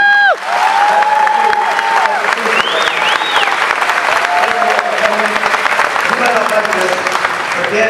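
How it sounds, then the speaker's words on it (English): A crowd claps loudly and steadily for several seconds, sustained applause with a voice briefly heard over it near the start. "Can we have a round of applause for Park Tigers?"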